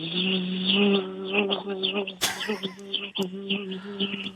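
A voice imitates a cicada, producing a loud, pulsing, nasal buzz with rhythmic swells, interrupted midway by a sharp burst of noise.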